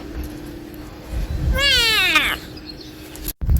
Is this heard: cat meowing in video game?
yes